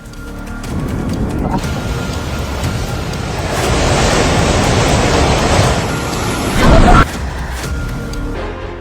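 Floodwater rushes in a steady, loud, noisy roar during a flash flood in Nepal, with wind buffeting the microphone and a brief louder surge near the end.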